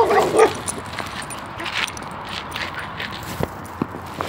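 A couple of dogs bark and yip at a distance outdoors during a bike ride, with scattered sharp calls over a steady windy rumble.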